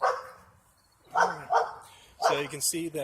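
A pet dog barks several times nearby in a home, short loud yaps in quick bursts, with someone talking over and between them.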